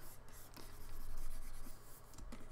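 Stylus dragging across a drawing tablet while painting in Clip Studio Paint, a soft continuous scratchy rubbing that swells and fades over a couple of seconds, close and quiet with no voices.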